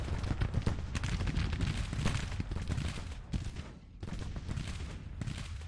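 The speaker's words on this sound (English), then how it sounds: "All of our artillery is starting to open up." Civil War artillery in the strategy game Grand Tactician fires in a dense, continuous barrage of booms and crackling reports, loud and rumbling throughout with a brief dip near the end.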